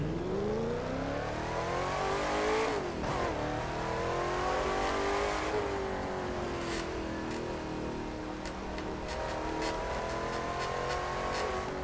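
A car engine in the racing game The Crew 2 revs and accelerates through gear changes, loud and close, with pitch climbing, dropping at shifts, then climbing again, alone without talk.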